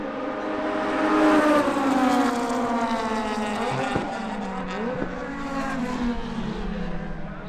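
Race cars, including a Honda EK, a DC5 and a Porsche, running on a circuit at a JDM classics festival, with steady loud engine drones rising and falling in pitch as they pass, heard alone without talk.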